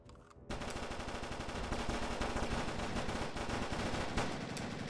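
Sustained, loud automatic gunfire from the video game They Can't Stop All Of Us, a rapid unbroken stream of shots starting after a brief quiet moment and continuing to the end.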